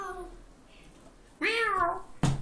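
A young child imitates a cat's meow with two short, rising and falling vocal meows, the second louder and closer, followed by a brief burst of noise at the end.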